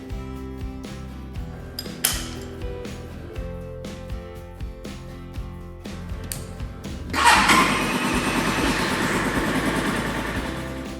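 Metallic clicks and tinkling sounds come first. Then a Spark SP250D-7 enduro motorcycle's 249 cc four-stroke engine catches on the electric starter and settles into a loud, steady idle nearby.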